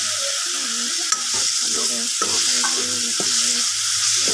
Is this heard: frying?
yes